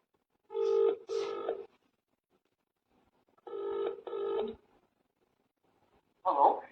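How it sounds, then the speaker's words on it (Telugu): Telephone keypad tones sound while a call is placed: two short bursts of paired beeps, a pause, two more, then a brief tone near the end, clear and close in an otherwise quiet room. "సో ఇప్పుడేదో కాల్ చేస్తున్నాను."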